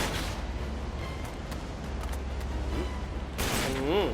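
Gunfire in the video game Uncharted 3, a rapid continuous burst of shots and rumbling blasts during a ship battle, loud and close, with a voice speaking near the end.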